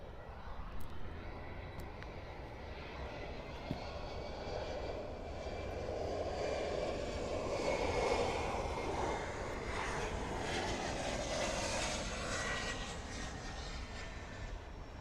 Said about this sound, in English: And our next arrival here on runway 9 is American Eagle Flight 3755, arriving in from Monterey.